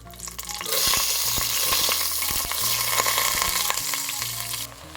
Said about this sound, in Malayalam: ഞാനിപ്പോൾ ഇവിടെ ആഡ് ചെയ്തത് 2 കപ്പ് ജീരകശാല റൈസാണ്